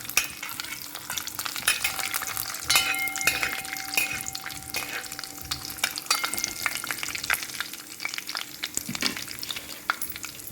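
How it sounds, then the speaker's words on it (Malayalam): Almonds frying in three teaspoons of hot ghee for Kerala pumpkin payasam: a steady, crackling sizzle with the light scrape and clink of stirring running throughout, close up, with no voices. "മൂന്ന് ടീസ്പൂൺ നെയ്യ് ഒഴിച്ചിട്ടുണ്ട് അതൊന്ന് ചൂടായി വരട്ടെ ആദ്യം ബദാം ഇടാം"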